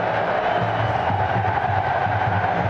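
A large football stadium crowd at a 2014 friendly between Fluminense and Italy sends up a steady, dense roar that fills the whole stretch without pause or clear peaks.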